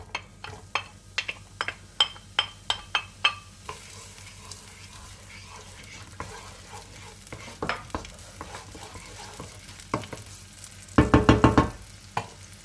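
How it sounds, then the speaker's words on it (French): Onions fry in olive oil in a heated pan, a soft sizzle running throughout under a string of sharp spatula knocks and scrapes, with a fast burst of stirring clatter near the end. "je mets de l'huile d'olive et je vais faire revenir un peu les oignons. Je verse mon oignon."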